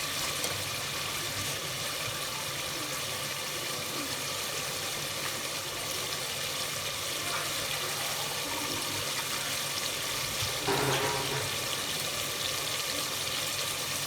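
Water pours steadily into a cooking pot of karela gosht (bitter gourd and meat), a soft, continuous splashing with a brief louder gush near the end.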